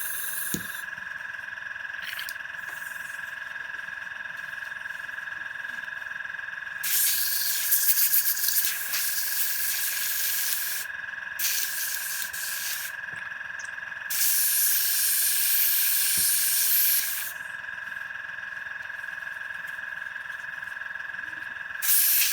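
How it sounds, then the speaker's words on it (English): An airbrush being flushed out sprays and hisses in three long bursts over a steady background tone, each blast broad and fairly loud with quiet gaps between. "Let's clean out the airbrush quickly."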